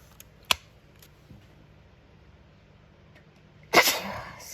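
A single close sneeze bursts out early, and a second, louder sneeze with a breathy tail follows near the end over a quiet indoor background.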